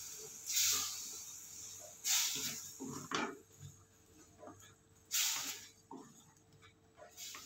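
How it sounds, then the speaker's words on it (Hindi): Tomato puree hitting a hot, oil-free pan of browned onions for chole, giving several loud bursts of sizzling hiss that fade between pours. "अब हम इस पे डालेंगे टमाटो प्यूरी।"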